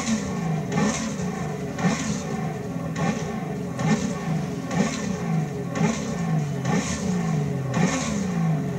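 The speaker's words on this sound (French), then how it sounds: "On a une sonorité en bas de régime qui va être très grave." A naturally aspirated car engine in The Crew 2 racing game revs repeatedly at low RPM, a deep loud growl rising and falling in rhythmic pulses roughly once a second, with no talk over it.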